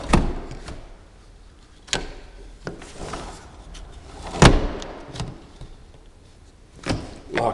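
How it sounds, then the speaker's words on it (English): A back door and its lock are worked, giving a series of sharp clicks, knocks and thuds spaced unevenly, with one louder bang near the middle, close and fairly loud in a quiet room. "Lock works on the back door."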